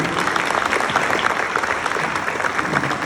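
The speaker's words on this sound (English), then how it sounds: "can y'all clap it up for my teammates?" An audience at a hall of fame induction ceremony applauds an inductee's former teammates, giving steady, dense clapping that fills the room throughout.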